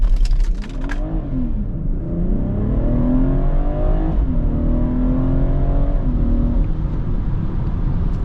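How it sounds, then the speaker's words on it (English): A BMW F30 under launch control at full throttle, heard from inside as the engine roars and pulls through rising pitch sweeps with a brief shift dip, loud and steady, after a few opening clicks. "So, foot on the brake, pedal in S, full throttle, go."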